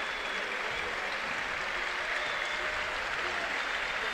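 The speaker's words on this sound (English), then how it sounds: "hence the applause you can hear in the background" Football crowd at a Brentford versus Celta match applauds as a player heads off toward the tunnel, a broad, steady wash of clapping from a large stadium audience with commentary talk faintly over it.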